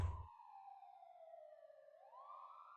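A single siren wails at night in the video game Path to Nowhere, one long steady tone that slowly falls and then rises again, heard alone and at moderate volume.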